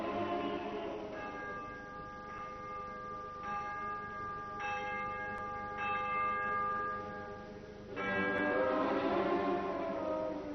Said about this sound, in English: 12 little hammers were hammering on the ornate bell, telling of the storm that was on its way